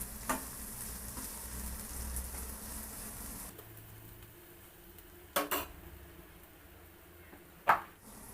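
Chopped onions sizzle softly in a pan, browning for a red amaranth bhaji, with a few sharp clinks of a spoon or utensil against the pan over the quiet, steady frying.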